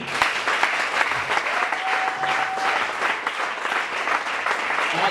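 Audience at a church gathering in Brazzaville applauding steadily for several seconds, dense clapping at close range with a faint cheer and a brief sustained whistle-like tone partway through.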